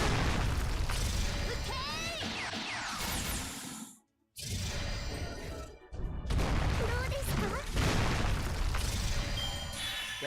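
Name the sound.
mortar explosions from creatures in a video game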